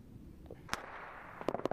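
Distant explosion destroying a missile launcher in a tactical shooter video game, heard as a sharp crack followed by a quick cluster of popping bursts, fairly faint.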